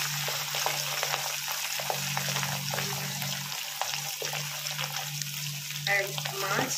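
Pieces of katla fish for doi katla sizzle lightly in a pan, a soft steady crackle with a low hum beneath and occasional clinks and stirring, while a person talks faintly in the background.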